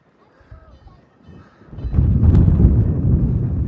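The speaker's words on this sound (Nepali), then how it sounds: "कस्तो हावा लाग्यो" Wind gusts across the Sailung mountain viewpoint in Nepal at sunset, starting as a faint rustle and swelling into a loud, steady low rumble buffeting the microphone.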